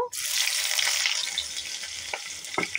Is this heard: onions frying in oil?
yes